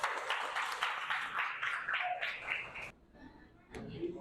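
A short burst of classroom applause for a student, quick dense clapping for about three seconds before it fades, followed by a brief sound at the end.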